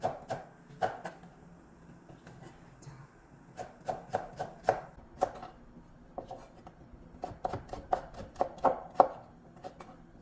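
A knife cuts carrots into thin 0.4 cm strips on a board for japchae, sounding as quiet, crisp taps in quick bursts separated by short pauses.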